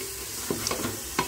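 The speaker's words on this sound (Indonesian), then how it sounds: "Aduk kembali." Lamb trotter stew seasoned with stock cube, salt and sugar is stirred in a pot over steady sizzling, with several light scraping knocks of the spoon against the pot.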